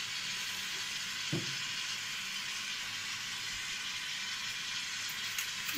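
Black cumin seeds frying in hot oil in a wok that was just used for frying fish, a steady broad sizzle with a couple of faint clinks, no talking.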